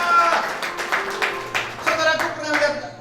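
A church congregation at an Ascension Day service claps in a quick, steady rhythm of about a dozen claps, fairly close and loud, with voices underneath.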